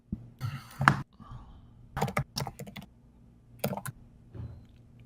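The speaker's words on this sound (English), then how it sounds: "Jesus, I hear that keyboard" Laptop keyboard typing comes through in several bursts of quick, close clicks with short pauses between them, while a voice speaks faintly in the background.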